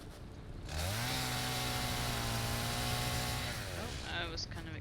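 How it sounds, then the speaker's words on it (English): A chainsaw in the factory-building game Satisfactory revs up and cuts steadily for about three seconds, loud and close, then winds down, with speech faintly mixed in. "Is the chainsaw too loud or is it okay?"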